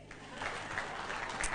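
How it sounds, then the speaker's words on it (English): An awards ceremony audience claps in a dense, even patter that holds for a moment, steady and moderately loud in a large room. "Clap for me."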